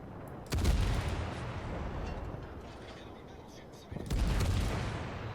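Heavy naval gunfire booms in World of Warships, with two loud, close salvos a few seconds apart over a steady rumbling game backdrop.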